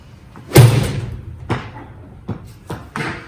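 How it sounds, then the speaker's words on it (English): A golf club strikes a ball set on a board for a lie angle test, one sharp loud impact followed by a few softer knocks and thuds nearby, with no talk. "We get our ball onto a board, and then we're going to hit a shot and see where it marks."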